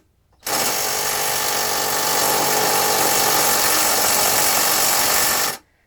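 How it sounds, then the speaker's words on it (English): Impact driver fitting a spare wheel lock on a VW T6 van, one continuous loud rattling burst of about five seconds, starting and stopping sharply, no talk. "I have though had to rope in Dad on a mission with his impact driver though"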